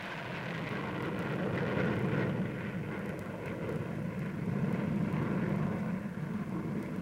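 New French jet fighters fly over the Paris air show in the late 1950s, their engines producing a continuous, heavy roar that stays steady and fairly close for the whole stretch.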